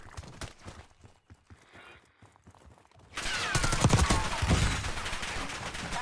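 Gunfire from a building in the Warzone shooter game, a dense burst of loud shots that breaks out halfway through after quieter, sparse sounds.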